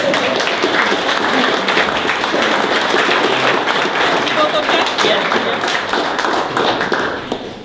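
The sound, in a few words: wedding guests applauding after the vows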